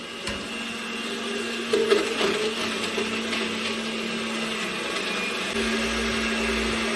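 A kitchen blender whirs steadily, blending pumpkin dumpling ingredients in coconut milk with a continuous mid-level motor hum and brief louder surges near the start.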